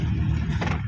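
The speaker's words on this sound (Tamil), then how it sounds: "வண்டி 2ஆவது கீரில் வண்டி மூவ் ஆகிட்டு இருக்குது." A 2007 Maruti Suzuki Omni van engine hums steadily while moving in second gear, a low, close, even drone through a brief moment.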